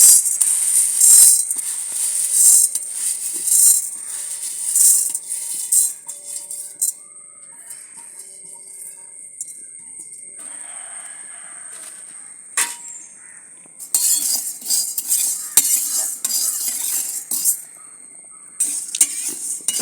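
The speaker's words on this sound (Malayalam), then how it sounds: "ഈ പരിപ്പെല്ലാം ഇതിൽ വെച്ച് വറുത്തെടുക്കും" Toor dal lentils being dry-roasted in a pan on a stove, with repeated scraping and stirring strokes of a metal spoon and light sizzling, in bursts with quieter gaps.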